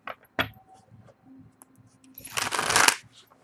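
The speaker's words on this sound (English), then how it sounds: "so one more shuffle and we will do the storybook style" A deck of tarot cards is shuffled close by, a quick riffle and soft flicks early on, then a louder, longer burst of cards ruffling together.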